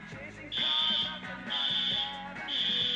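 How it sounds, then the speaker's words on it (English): A fire alarm sounds in repeated shrill electronic bursts, about one per second, loud and close over a low background hum. "What was that? The fire alarm."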